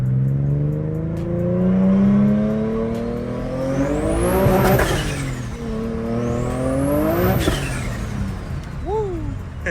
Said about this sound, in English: get a little test hit in 1st gear